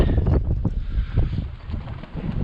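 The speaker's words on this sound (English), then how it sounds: "It's a bit blowy." Steady gusting wind buffets a sailboat underway, a continuous rough roar with rising and falling surges close to the microphone.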